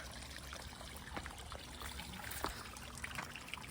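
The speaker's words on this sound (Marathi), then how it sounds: "वरून फोर्सने पाणी येतो" River water flows and splashes steadily, a continuous rushing trickle with small irregular splashes as the current comes down with force over a fishing net, fairly close and without voices.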